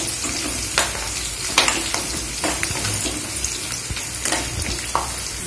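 Okra frying in a pan with tempering gives a continuous sizzle, broken by several sharp scrapes of stirring.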